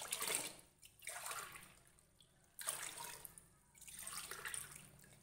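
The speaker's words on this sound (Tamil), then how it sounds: "இப்போ இதிலே தண்ணி அளந்து ஊற்றிக்கலாம்." Water poured by the tumbler into a cooking pot for sweet sakkarai pongal, heard as three splashing pours in a row, fairly close and clear with no talk over them.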